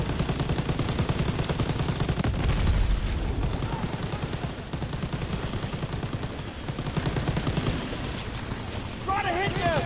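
Turret machine gun fire in Call of Duty WWII: rapid, sustained bursts of loud automatic gunfire and distant booms in a chaotic battle mix, with voices shouting over the din.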